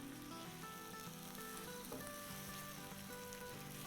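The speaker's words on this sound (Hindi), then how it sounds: "प्याज़ों को और बैंगनों को साथ साथ फ्राई करेंगे" Onions and eggplant pieces fry in a pan for a Hyderabadi stuffed masala eggplant dish, giving a steady, close sizzle with no pauses and no talk.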